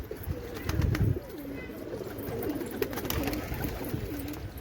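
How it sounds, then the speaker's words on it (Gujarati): Domestic pigeons cooing in a rooftop loft, repeated soft throaty coos close by, low and fairly faint, with light rustling and background sounds. "કબૂતર ખોલી નાખ્યો"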